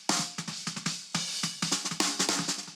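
Snare drum captured from a bottom microphone, a quick series of sharp, bright hits in an uneven rhythm, loud and close with no talking.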